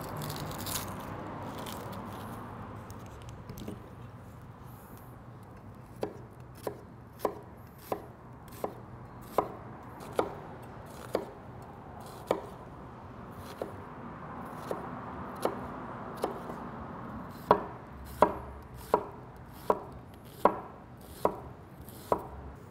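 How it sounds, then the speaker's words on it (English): Half a red onion being chopped finely on a cutting board: after a few seconds of soft handling, crisp knife strikes come in a steady, close rhythm that gradually quickens and grows louder, with no voices. "Also gonna add about half of a red onion. Also chopped up pretty fine."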